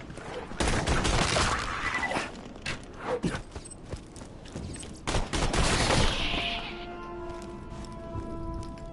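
Rapid bursts of video game gunfire from an early-game weapon in Tiny Tina's Wonderlands, loud and repeated in uneven volleys with brief gaps, then a trailing ringing tail as the shooting stops.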